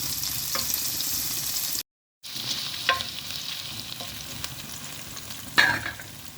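Two small onions sauté in a pan for chicken biryani, a constant close hiss of frying broken by occasional scrapes and taps of a spoon stirring, with a brief silent gap early on.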